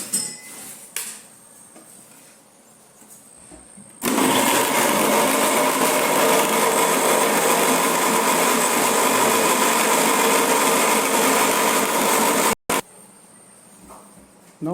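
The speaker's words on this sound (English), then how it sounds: "Now we will put it in the jar blender and we mix it well." A jar blender purees tomatoes for homemade tomato sauce. After some quiet handling and clinks, it starts with a loud, steady whirring roar that runs for about eight seconds, cuts out briefly, then stops, leaving faint handling noises.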